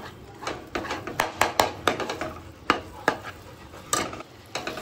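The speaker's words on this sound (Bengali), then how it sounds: "আর এর মধ্যে দিচ্ছি কেসুরি মেথি। সমস্ত উপকরণ দিয়ে ভালো করে মিশিয়ে নিচ্ছি।" A spoon stirs mutton korma masala with kasuri methi in a pan, making repeated scraping and clinking strokes in an uneven rhythm over a soft sizzle.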